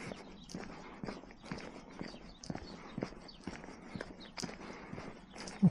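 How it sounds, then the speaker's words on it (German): Two Belgian draft horses walk along a path by a canal, their hooves clip-clopping in a loose, uneven rhythm at moderate distance, faint against outdoor ambience. "Und da ist unser Pferdchen."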